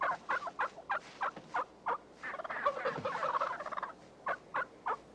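A wild turkey gobbles repeatedly, with short rapid bursts at a steady rhythm around a longer rattling call in the middle, heard fairly close against quiet outdoor background.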